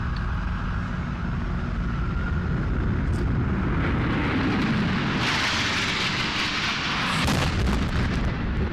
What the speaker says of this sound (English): The second plane hits the south tower between the 78th and 82nd floors at 9:03 a.m.